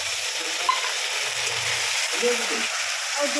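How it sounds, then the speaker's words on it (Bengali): Ginger and garlic, with chilli, sizzle and fry in oil in a pan for a chickpea ghugni, a steady close crackling hiss with faint stirring. "এমনি ভাজা ভাজা হয়েছে তখনই আমি দিয়ে দেবো এবার আদা রসুনটা"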